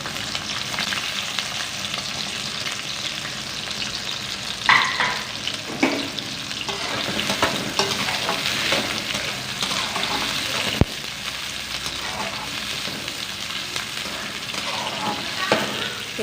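Onions fry in hot oil for chicken gravy, a dense, steady sizzle close by with scattered stirring scrapes and one sharp knock midway, no talking.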